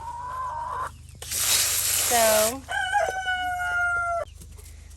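A rooster crows loudly and close by, a drawn-out rising and falling call, preceded by a brief spoken word and a bright tonal sound.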